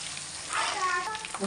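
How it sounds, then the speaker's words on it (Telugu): Fish curry mixture for chepala pulusu sizzles and fries steadily in a pan while it is stirred, giving a continuous close hiss with faint scraping and no voices. "ఇలా కలుపుతూనే ఉండాలి, ఎందుకంటే కింద అంటుతుంది కాబట్టి కలుపుతూనే ఉండాలి"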